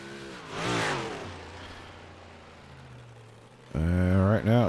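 Big block modified race cars on qualifying laps roar past in rising engine sweeps, one pass early and a louder, closer one near the end, with a lower engine drone between and an announcer talking over it.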